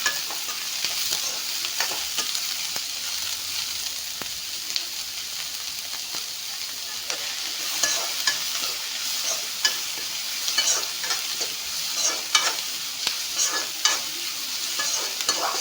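Onions and green chillies frying in a pan, a dense continuous close sizzle with frequent light clicks and scrapes of stirring throughout, no voices.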